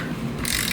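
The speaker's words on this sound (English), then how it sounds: "I'm snugging these bolts up just a little bit at a time" A hand ratchet clicks quickly while tightening clutch bolts on a 1965 Ford Mustang in a garage, a short close run of metallic pawl clicks with no talking.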